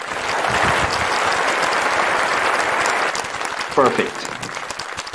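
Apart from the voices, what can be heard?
applause from an audience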